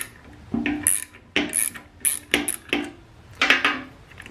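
A nut comes off a 2nd gen Cummins alternator during disassembly with a series of close metallic ratcheting bursts, about eight short clicking spurts separated by brief pauses, with no voices.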